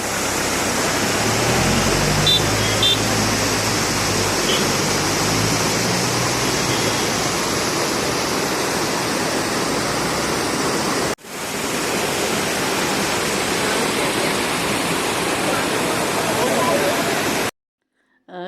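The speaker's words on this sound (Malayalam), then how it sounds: "കേട്ടില്ലേ ശബ്ദം, എന്ത് ഫോഴ്സിലാണ് വെള്ളം വരണേന്നുള്ളത്." A waterfall roars in a loud, constant rush of falling water, close and unbroken, with a brief dropout partway through.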